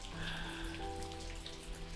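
Steady rain falls in a constant wash of drops near a camper van in a Finnish national park, with no voices.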